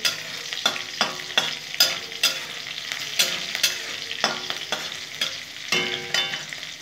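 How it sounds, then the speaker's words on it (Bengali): Crushed garlic and dried red chilli fry in a pan, a soft steady sizzle broken by regular scraping stir strokes roughly every half second, close and with no talk. "শুকনো লঙ্কাটা খুব সুন্দর করে একটু ভেজে নেব"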